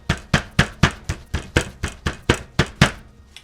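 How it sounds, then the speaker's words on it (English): A knife cuts grilled Vietnamese-style pork into small pieces on a board, about a dozen evenly spaced, crisp chops with a steady rhythm, close and fairly loud, with no talking. "we'll just start slicing these into some small pieces"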